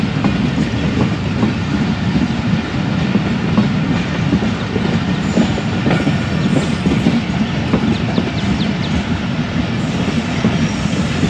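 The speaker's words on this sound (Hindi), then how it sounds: "अब ट्रैक पे एक और ट्रेन आ रही है" A train rolls through the Ghaghar Phatak level crossing in Karachi, heard from the air. The steady, loud rumble and clatter of the wagons carries on the whole time with faint wheel squeal, and nobody speaks.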